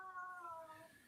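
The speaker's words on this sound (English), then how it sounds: "Listen to my cat." A house cat gives a single short, faint meow that slides downward in pitch, heard close by in a quiet room.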